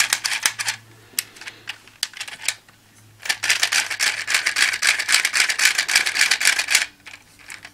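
The wings of a PlaMonster Green Griffon plastic model toy clack together in quick, rapid rattling bursts, up close and loud, first in short spurts and then in a sustained run of clicks.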